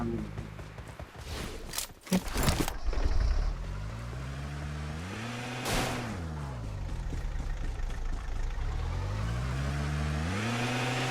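A car engine in the video game BGMI drones and revs as the vehicle drives, the pitch rising and falling repeatedly with bumps and thuds early on, while voices talk over it.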